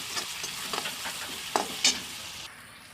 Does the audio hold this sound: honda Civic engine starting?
no